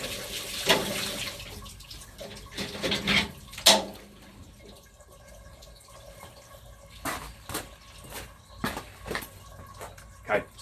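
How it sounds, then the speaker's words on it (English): Soda crystal cleaning water in an oil drum holding poly hives overflows as the lid is pushed down, giving close splashes and drips in uneven bursts. "You're going to get a lot of water coming out now"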